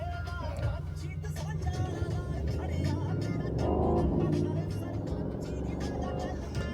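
Mercedes-AMG GT 63 coupe exhaust on a Hamburg street, a steady engine drone broken by sharp popping and crackling bursts, loud and close, with people talking over it.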